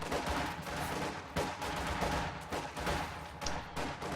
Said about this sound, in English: Another rifle grenade.